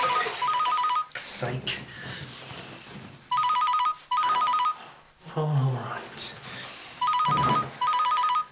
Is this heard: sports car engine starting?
no